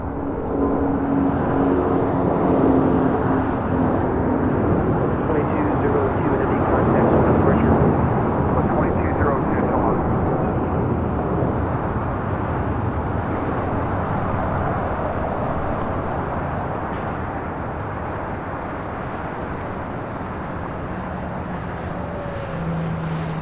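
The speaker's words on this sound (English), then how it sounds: "This is Delta Airlines 2202, taking off to Atlanta on an" A Delta Airlines Airbus A350-900 takes off from LAX, its broad, roaring jet engine noise loud and sustained, peaking early and then slowly easing as it climbs away, with wind buffeting the microphone.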